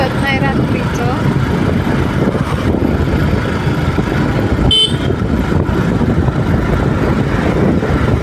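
Busy night street traffic on a turning road lined with food stalls, a steady roar of cars, trucks and motorbikes with a brief horn toot, voices mixed into the din.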